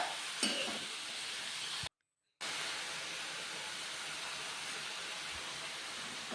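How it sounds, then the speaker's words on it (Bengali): Bottle gourd pieces stirred with spices in a hot pan give a steady sizzling hiss and soft stirring scrapes. A short dropout of near silence breaks the sound briefly. No one speaks. "লাউগুলো দিয়ে একটু হালকা ভালো মতো নাড়াচাড়া দিয়ে দিয়ে দেবো একটু নুন।"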